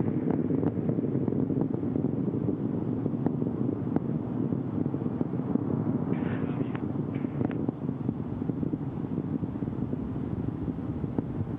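Space Shuttle Atlantis main engines at full throttle shortly after liftoff, heard as a steady, dense low roar with rumbling texture that continues unbroken throughout.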